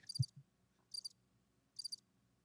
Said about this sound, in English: Y'all hear them crickets?